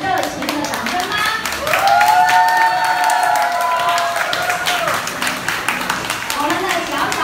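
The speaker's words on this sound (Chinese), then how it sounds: "请大家给他们热情的掌声吧" Children's spring-summer fashion show audience cheering and clapping, a steady crowd roar with scattered claps under music and a voice, sustained and fairly loud throughout.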